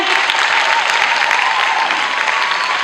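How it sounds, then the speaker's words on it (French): Loud, dense applause from the audience at a school showcase event, a full, unbroken roar of many hands clapping close to the microphone that holds steady throughout. "Est-ce qu'on peut encore applaudir,"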